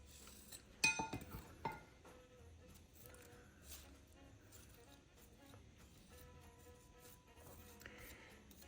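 An angular spatula dipped into sugary cookie glaze in a home kitchen, giving a cluster of faint metallic clinks early on, then quiet scraping and light handling noises.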